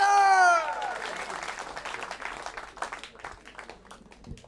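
A comedy club audience breaks into applause for a stand-up comedian, a dense wash of clapping that starts strong and tapers slightly, with a brief musical or electronic tone fading at the very start.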